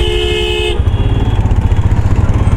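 A Royal Enfield Himalayan adventure motorcycle sounds a short, loud, steady horn tone that stops within a second, leaving the close, pulsing putter of the engine running underneath.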